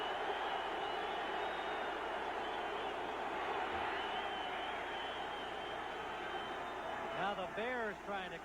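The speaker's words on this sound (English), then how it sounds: "Now the Bears trying to calm their crowd and get the play going." Dense roar of the home crowd at a 1986 Chicago Bears game against the Green Bay Packers, steady and loud throughout, with a voice entering near the end.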